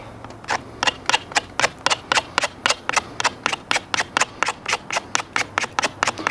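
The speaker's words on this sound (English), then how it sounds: "is spreading the dough thin and then cutting pieces of it into the batter" Spaetzle dough spread thin on a board and cut into pieces that drop into the pot, heard as about twenty quick, evenly spaced scraping chops, close and steady for the whole stretch.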